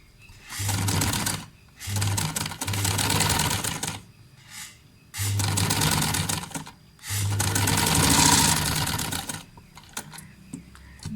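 A sewing machine stitches along the outer edge of a fabric neckline, running in four or five loud, steady bursts separated by short pauses.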